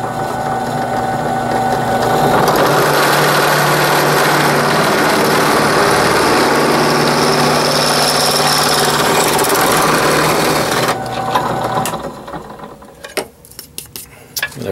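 A drill bores a 3/8 inch hole for a 3/8 inch bolt while building a tripod bubble level, giving a loud, steady machine whine for about eleven seconds that then cuts off into a few scattered clicks and knocks.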